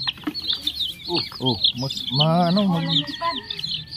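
Many small chicks peeping in a continuous high chorus nearby, while a person talks over them in between.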